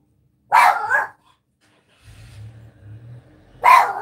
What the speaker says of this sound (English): My dog is really barking.